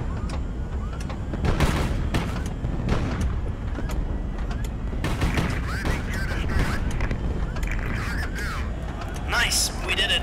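Airship guns fire repeatedly during a naval-style battle in the video game HighFleet, with booming shots and mechanical clatter running throughout, heard under someone talking over the action.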